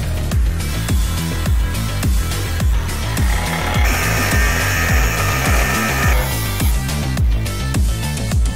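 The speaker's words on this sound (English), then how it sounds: "try and get yourself a mains powered angle grinder. Otherwise you'll be swapping batteries every 5 minutes like I am" A battery-powered angle grinder cuts through metal for an industrial-style lamp, giving a loud, steady high whine with a rhythmic pulsing grind throughout, close up and with no voices.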